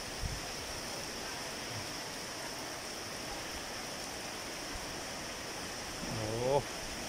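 Continuous hiss of heavy rain driven by wind, a steady broadband roar with a faint rising whine near the end.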